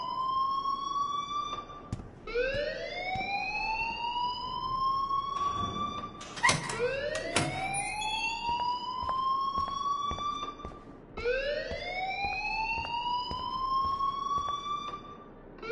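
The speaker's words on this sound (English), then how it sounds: "please turn off that alarm since that's your job." A siren-like alarm blares in the video game Life is Strange, its rising wailing sweeps repeating about every four and a half seconds, loud and continuous with a few clatters in between.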